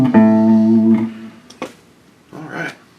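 A guitar plays a short run of single notes through a scale with an added passing tone, ringing clearly for about a second before a few scattered pick and handling noises.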